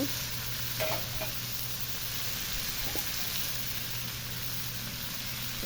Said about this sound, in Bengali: এখন কড়াইতে জল দিয়ে দেব।